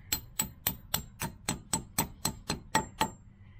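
A hammer taps a metal wall anchor into a drilled concrete hole, about eleven sharp, evenly spaced metallic strikes in quick succession, close and alone.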